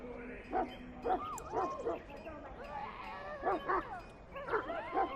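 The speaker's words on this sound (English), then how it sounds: "I fear your hound has the kitchens in uproar once again" A Mabari war hound in Dragon Age: Origins barks repeatedly in short bursts, mixed with whines and yips, at moderate loudness over quiet ambience.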